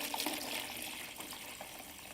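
Part A of Bona Red Out floor finish pours in a faint, steady liquid trickle with small splashy bubbling throughout, close and quiet, with no talking.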